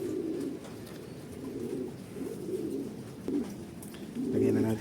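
Pigeons coo in repeated soft, low bursts over steady background noise of heavy rain, with a louder, fuller coo near the end.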